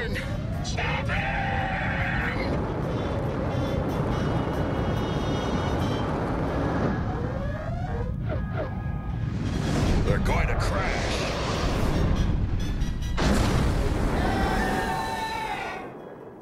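A cartoon Decepticon spaceship crashes with a loud sustained roar and rumbling impact noise, swelling and surging over several seconds, while character voices shout over it.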